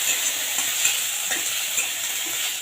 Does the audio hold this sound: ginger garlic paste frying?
yes